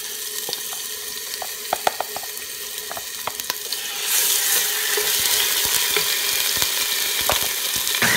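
Cinnamon, garlic and ginger dropped into hot oil: a quiet background with scattered clicks and ticks that rises midway into a louder, steady close sizzle, with no talking.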